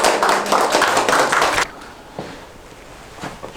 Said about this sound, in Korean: 우리 오늘 고맙다고 박수 한번 해주세요